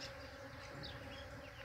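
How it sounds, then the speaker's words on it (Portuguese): A large swarm of bees buzzes around a flowering tree outdoors, a dense continuous hum that stays loud and unbroken throughout. "tá uma nuvem de abelha tão grande que eu tô com medo"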